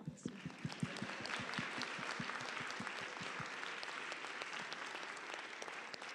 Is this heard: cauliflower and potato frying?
no